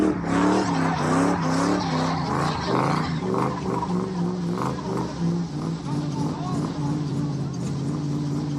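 A car engine drones and revs with a strained, wavering tone while tires squeal and skid across asphalt, loud and close throughout, with voices talking over it.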